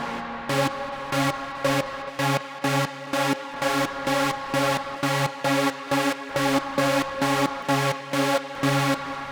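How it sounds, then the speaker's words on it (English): An aggressive supersaw synth arpeggio from u-he Diva pulses in rapid, evenly spaced chord stabs, bright and loud with a buzzy, rich tone, playing alone throughout. "I like this aggressive arpeggio, and then kind of just dialing down the dry wet just a little bit."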